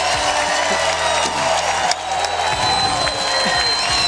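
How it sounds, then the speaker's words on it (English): An excited crowd at a pickleball match roars with sustained cheering and applause, loud and dense throughout, with a steady low hum running beneath. "And wow, is this crowd excited."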